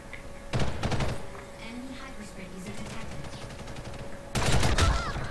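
Gunfire in Ghost in the Shell: Stand Alone Complex First Assault Online team deathmatch, two loud bursts of rapid automatic shots with a steady game hum between them.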